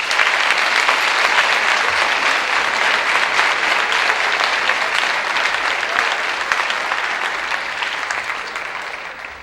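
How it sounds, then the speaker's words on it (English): An audience at a high school academic awards event applauds its top 10 students with a dense, steady round of clapping that fills the hall for nearly ten seconds and eases slightly toward the end. "give one more round of applause for this group of top 10"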